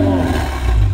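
A modified right-hand-drive Spoon Honda NSX exhaust revs with a deep, loud rumble, brief and close.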